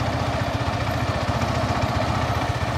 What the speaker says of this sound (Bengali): এক পাশে আমার বাইকের গর্জন